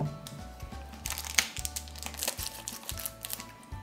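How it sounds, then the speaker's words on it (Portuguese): Scissors snip through the thin plastic bag holding EVA modeling foam clay, giving close crinkling and crackling plastic with a few sharp cutting bursts, no voices over it. "E aqui vocês vão pegar a tesoura."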